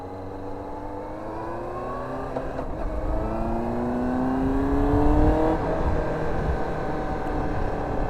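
A Yamaha R1 sport motorcycle idling steadily at close range, its even engine tone drifting slightly in pitch as it runs on alone without speech.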